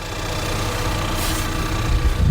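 A 2021 Ford Bronco Sport engine idles with a steady low rumble and a faint rapid ticking running throughout.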